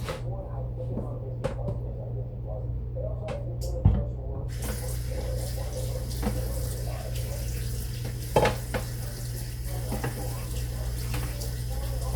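Tilapia fish is rinsed under a running kitchen tap: a steady, close rush of water with a low hum beneath it and a couple of brief clunks in the sink.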